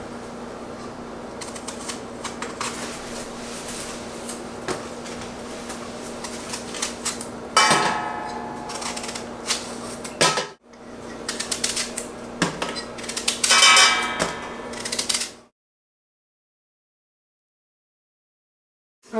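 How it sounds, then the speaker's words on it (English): Knife chopping apples and pieces dropping into a large colander: rapid clattering knocks and bursts of rustling, then an abrupt stop into silence. "So I'm going to get to cutting, and I'm going to be putting them right inside this larger colander"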